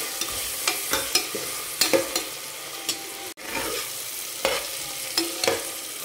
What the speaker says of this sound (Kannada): ನೆನೆಸಿಟ್ಟಿರೋ ಬಟಾಣಿ ಹಾಕ್ತಾಯಿದ್ದೀನಿ ಸ್ವಲ್ಪ ಫ್ರೈ ಆಗಲಿ ಅಂತ ಆಯಿಲಲ್ಲಿ.